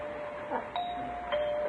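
A doorbell chimes twice in quick succession, two clear ringing tones sounding close and moderately loud in a quiet room, with no talking.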